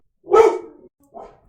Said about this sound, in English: Friend's dog showed up.